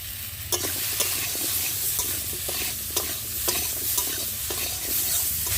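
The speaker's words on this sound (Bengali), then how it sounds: "আলুগুলো ভালো করে তরকারি রান্না করার জন্য আমি ভালো করে ভেজে নেব" Potatoes seasoned with salt and turmeric fry in a pan for a bitter gourd curry, with a loud, steady sizzle and repeated scraping strokes of a spoon stirring them throughout.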